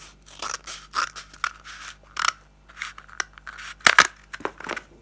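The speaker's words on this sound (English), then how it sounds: "Now take a toilet roll and cut it in half." Scissors snip through a cardboard toilet roll to cut it in half, giving a run of close, crisp crunching cuts with short pauses between them and a couple of sharper snaps near the end.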